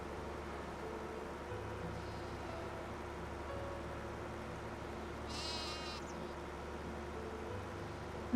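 A single short sheep bleat sounds in a farming video game, brief and moderately loud over a steady low engine-like drone, with a fainter bleat shortly before.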